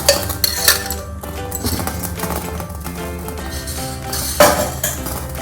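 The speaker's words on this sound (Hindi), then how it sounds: "अब कढ़ाई लेकर उसमें 1 टेबलस्पून ऑयल डाल दें।" A metal kadhai wok clanks onto the stove as oil goes in, bright metallic clinks and scrapes ringing out loudly and close, with a couple of sharper knocks at the start and near the end.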